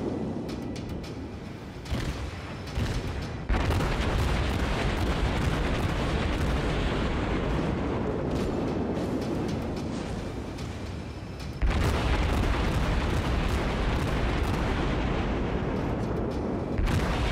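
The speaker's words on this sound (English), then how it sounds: "That is such a weird cannon." Ship cannons boom repeatedly during a World of Warships naval battle involving the tier II Chester, with loud, dense salvos rolling into one another and swelling again partway through.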